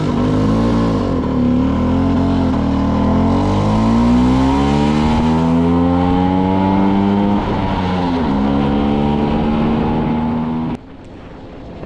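A rebuilt Serveta Jet 200 scooter on a shakedown test ride runs loud and close, its buzzing two-stroke engine climbing and dropping in pitch through gear changes before cutting back sharply near the end.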